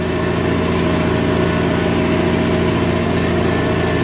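A Kubota 5502 tractor engine runs at steady revs while tilling a field of lumpy clay soil, a constant close diesel drone with a throbbing pulse and no change in pitch.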